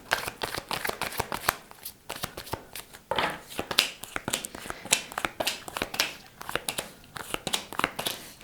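Tarot cards shuffled continuously in close, dense riffling bursts with brief pauses, loud and steady throughout without any speech.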